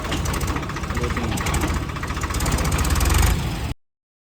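Tractor fitted with a rotavator idling nearby, a loud steady diesel chug with a rapid knocking pulse that holds throughout before cutting off abruptly.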